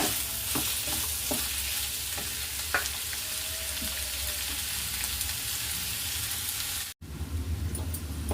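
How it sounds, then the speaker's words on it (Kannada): Tempering for vegetable fried rice fries in a hot pan with a constant loud sizzle, broken by a few sharp scrapes and knocks of a stirring spoon, close up and without talk. "ಒಗ್ಗರಣೆ ಬೇಯ್ತಾ ಇದೆ."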